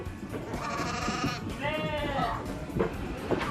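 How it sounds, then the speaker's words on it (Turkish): A ewe that bore twins and her twin lambs bleat on a farm, with two drawn-out wavering bleats over steady barn noise and people talking nearby. "Burada da geçenki videoda bahsettiğimiz ikiz doğuran koyunumuz ve ikiz kuzuları"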